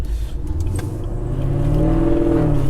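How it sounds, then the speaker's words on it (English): A street-driven 800 HP Camaro V8 idles with a deep, steady rumble that swells slightly louder toward the end, with no talking over it. "this idle brings out the worst in people at stoplights"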